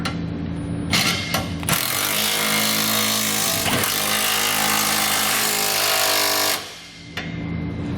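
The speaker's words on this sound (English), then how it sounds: "Then you want to come back with either a 19mm or a 3/4 inch socket and tighten up all your hardware." Trailer hitch receiver hardware bolts being tightened with a 19mm socket on a 2019 Nissan Frontier, a loud continuous mechanical whirring that runs almost unbroken, with short bursts at the start and a drop near the end.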